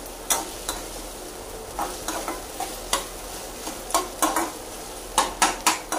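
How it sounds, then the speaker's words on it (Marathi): Tomato masala for butter paneer being sautéed in a pan, with a low sizzle under repeated scraping and clinking strokes of a spoon against the metal, close and fairly loud with no talking. "हे आपण व्यवस्थित परतून घ्यायचं आहे."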